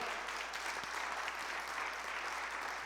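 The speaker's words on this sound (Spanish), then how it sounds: "Démosle palmas al Señor." A church congregation applauding steadily, a dense wash of many hands clapping at once, sustained and fairly loud throughout without any talking.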